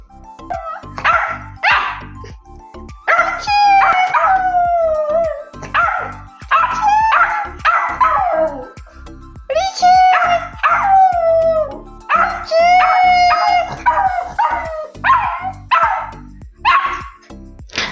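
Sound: dog howling

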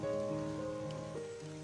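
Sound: rain falling

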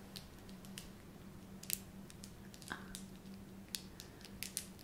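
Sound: tangle fidget toy being twisted

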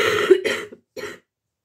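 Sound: coughing

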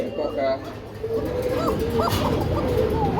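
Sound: Danish pigeons at a pigeon market

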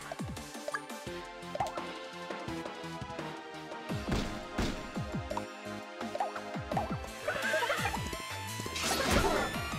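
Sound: horse neighing in the video game Miitopia

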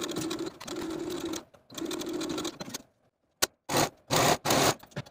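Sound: sewing machine stitching a blouse seam

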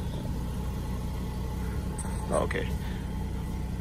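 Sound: Buick LeSabre engine cranked up and idling

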